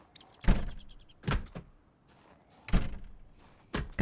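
Doors open in a video game, several sharp thunking and sliding bursts spaced a second or two apart over a quiet background, with a faint hiss in between.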